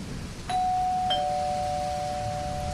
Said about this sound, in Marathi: तेव्हाच दाराची बेल आणि विजेचा कडकडाट एकदमच ऐकू आला